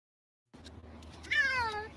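A single close cat meow, short and rising then falling, after a brief silence and over a low background rumble.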